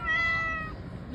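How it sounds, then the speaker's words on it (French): A small cat gives one short, clear meow, close and fairly loud, with a faint rumble of background noise. "il y a un petit chat."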